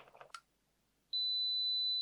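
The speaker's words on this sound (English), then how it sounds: "touching the two together there, it's flicked immediately into the continuity mode, and we get the continuity buzzer" A KAIWEETS KM601 digital multimeter's continuity buzzer sounds a steady, clear tone that starts abruptly about halfway through and holds to the end, after a few brief handling clicks and a moment of quiet.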